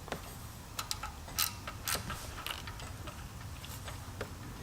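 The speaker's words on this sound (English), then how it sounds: "This is a snap-on chrome 1/4 inch drive, shallow 10mm wobble." A Snap-on chrome 1/4 inch drive ratchet with a shallow 10mm wobble socket turns on a bolt, giving quiet clicking ratchet pawl sounds in short, uneven strokes close by.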